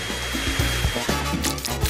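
A hair dryer blows on chocolate with a loud, steady close-up whir, interrupted by uneven bumps and clatter as it is moved around, and no one speaks.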